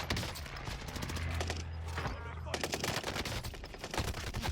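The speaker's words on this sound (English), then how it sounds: "This gunfight right here." Fast automatic gunfire in a Warzone Pacific gunfight on Caldera, rattling bursts of rapid shots, a short pause, then continuous firing again, moderately loud throughout.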